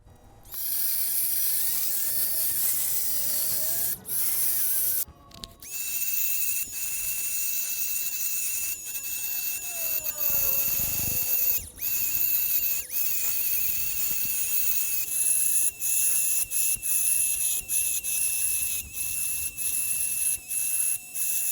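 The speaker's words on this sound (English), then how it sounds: "really aggressive carbide burr tool, and I hope I can take the majority off without overcutting it" An aggressive carbide burr grinds a copper Damascus kris dagger blade, a loud, steady high-pitched whine running almost the whole time with a brief break near the start and small dips as the tool shifts.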